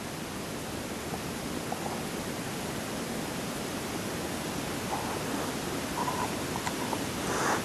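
Broadband wind roar sweeps steadily through a night-time alley behind a care home in Jarrow, a dense hiss that swells slightly near the end, with faint scattered knocks and rustles underneath and no one speaking.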